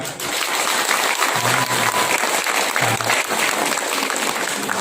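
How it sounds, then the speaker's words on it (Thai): An audience claps steadily and densely throughout, a sustained wash of applause without pauses. "ขอเสียงปรบมือให้กำลังใจท่านนิดนึงครับ"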